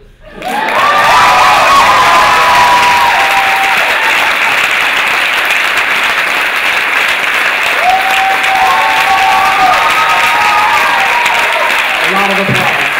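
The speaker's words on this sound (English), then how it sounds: "A lot of applause." Loud, sustained audience applause at a ROFLcon 2012 panel, a dense wash of clapping with cheers, whoops and shouting voices mixed in, continuing steadily for many seconds close up.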